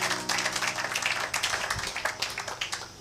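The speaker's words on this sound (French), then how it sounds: "Acclamons pour la gloire de notre Dieu" A church congregation applauding, dense rhythmic clapping from many hands sustained throughout at moderate loudness, with a faint low voice briefly underneath.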